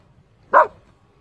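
A single sharp dog bark rings out close by, one short burst in otherwise quiet surroundings, at a riverside where a crocodile threatens a stuck dog.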